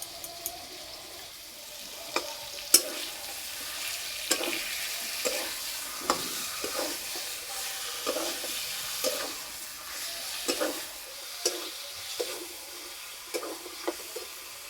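Chicken pieces frying in oil in a pan for a red chicken curry, stirred now and then, with a steady close sizzle broken by regular scraping and clinking strokes of a spatula, no talking.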